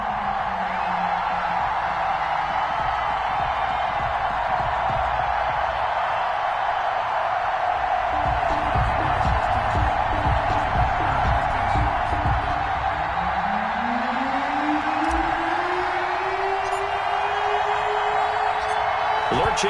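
Stadium crowd cheering in an EA Sports NFL football video game, Miami Dolphins home crowd in South Florida against the Los Angeles Rams; a steady loud crowd roar runs throughout with whoops and swells, under continuous commentary.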